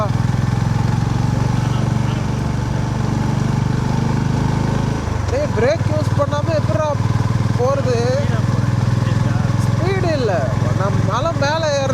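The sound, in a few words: motorbike engine accelerating uphill on a hill road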